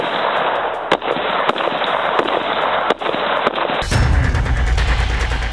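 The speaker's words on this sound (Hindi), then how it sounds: "वही ऑटोमेटिक मोड के जरिए पूरी मैगजीन एक ही बार में खाली की जा सकती है।" Automatic assault rifle emptying a magazine, a rapid string of loud sharp shots in quick succession, ending in a burst of heavier blasts and noisy rumble.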